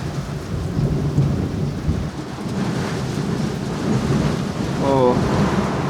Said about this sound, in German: Ja, jetzt schüttet es komplett.